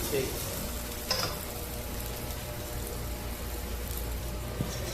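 A potato-and-egg stuffed paratha frying in a wok with extra oil, giving a steady close sizzle that runs the whole time, with a couple of light utensil clicks.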